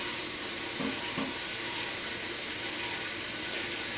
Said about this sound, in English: you want to get a large pan and you want to fill it with hot tap water